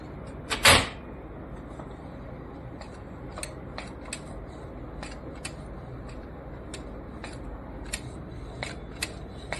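A Canon Maxify GX4070 printer's document feeder, with a paper detection fault at startup, gives one loud sharp clack near the start, then a steady series of faint, small ticking clicks that recur irregularly through the rest of the stretch.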